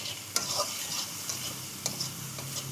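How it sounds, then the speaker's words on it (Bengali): Onions fry in a pan with a constant hissing sizzle, punctuated by a few sharp spatula taps and scrapes against the metal, up close. "বেগুনের জন্য আমি পেঁয়াজটা ভেজে নিচ্ছি।"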